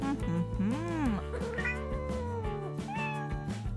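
A cat meows several times in drawn-out, wavering cries over soft background music, fairly close and clearly heard, with a longer plaintive meow followed by shorter ones.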